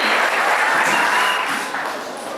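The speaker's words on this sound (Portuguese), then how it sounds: "vamos receber com alegria, aplaudindo o Senhor Jesus" A church congregation applauding steadily during a worship service, dense clapping that fills the space and fades slightly toward the end.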